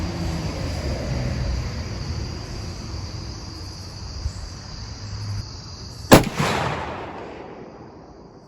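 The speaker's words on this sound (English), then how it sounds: "One more shot." A single loud black powder shot from a .45-70 Marlin 1895G Guide Gun outdoors, a sharp blast followed by a short rumbling echo, after several seconds of quiet outdoor ambience with insects chirping.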